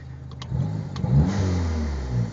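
Dodge Neon SRT-4 engine sitting at a steady idle, then blipped into a couple of quick revs that rise and settle, heard up close and alone.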